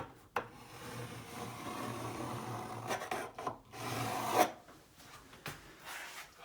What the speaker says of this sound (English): And then I'm going to draw a line under here.